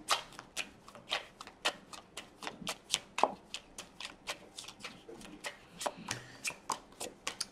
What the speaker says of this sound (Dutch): Dan de kaarten schudden om te kijken wat deze week voor jou gaat brengen.